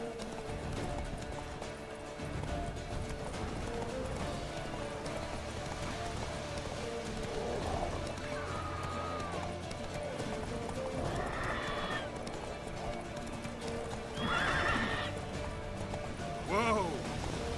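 In the video game The Witcher 3, a horse gallops with a steady clip-clop of hooves and lets out several whinnies and snorts, while a voice speaks briefly over the hoofbeats.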